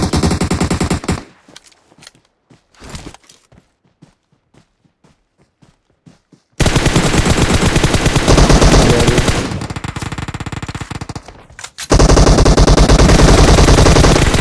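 Gunfire in the mobile battle royale PUBG Mobile, with scattered single shots and footsteps over near-silence, then long loud sustained bursts of rapid automatic fire, close and harsh.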